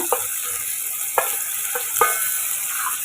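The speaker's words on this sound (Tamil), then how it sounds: "எண்ணெய் காஞ்சதும் வெங்காயம் சேர்த்துக்குங்க காரத்துக்கு மிளகா இது கூட ஒரு தக்காளி கட் பண்ணி எடுத்துருக்கேன் அதையும் சேர்த்துக்குங்க" Chopped onion, green chili and tomato frying in hot oil for egg rice, a steady close hiss of sizzling with a few sharp stirring clacks of a spoon against the pan, no voices.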